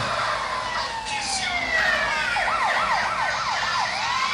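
Police car siren in the GTA San Andreas video game, a loud wailing siren that rises, then breaks into rapid repeated yelps, over steady traffic noise.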